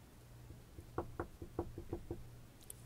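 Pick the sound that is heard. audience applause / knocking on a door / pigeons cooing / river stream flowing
knocking on a door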